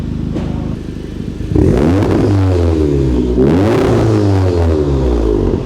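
An Audi S3 8V with a 3.5-inch valved performance exhaust revs hard twice, its deep exhaust note climbing and falling with each blip, loud and close over a steady idle.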